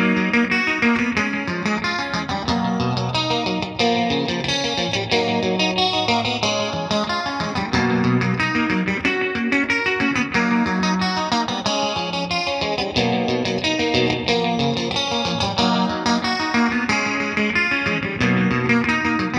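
Clean electric guitar tone from a Manson MA-25 EVO Holosparkle, played through a Fender- or Boogie-style amp with chorus-like shimmer, sustained and full throughout with no talking.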